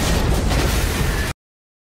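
A luxury car blows up in a film scene as a roaring, dense explosion blast that fills the sound for over a second before cutting off abruptly into silence.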